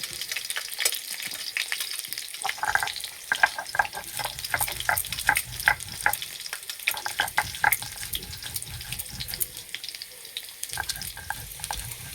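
Potatoes sizzle and crackle steadily in hot oil in a pan, with dense popping and spattering throughout and occasional stirring scrapes, close and fairly loud.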